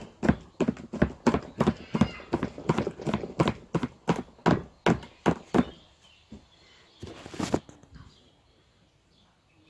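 A small grey pony's hooves clip-clop in a steady, fairly loud rhythm of about twenty close strikes over six seconds, then stop, followed by a brief shuffle and quiet.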